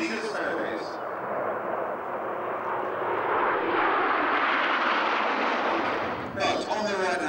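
Aircraft performing a corkscrew manoeuvre at an air display, a loud sustained jet roar swelling and holding steady across the clip, with talk at the start and end.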